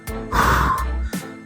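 A storyteller's voice acts out the character Singo Bodong heaving a long, forceful breath out, with a short breathy catch afterward. It is close, loud and dry, with no other sounds.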